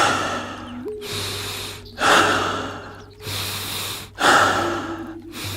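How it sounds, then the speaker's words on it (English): Deep stomach-breathing exercise: slow, loud breaths in and out with a brief gasping onset, repeating in a steady cycle of about four breaths, close to the microphone, with no talking. "And then you go into stomach breathing."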